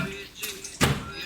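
A microwave door thumps shut with one sharp close, near and moderately loud, after a lighter click; a voice is heard faintly around it in a kitchen.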